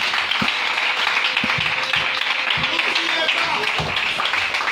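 A church congregation at a prayer service applauds in a steady, dense wash of clapping, with voices mingling through it.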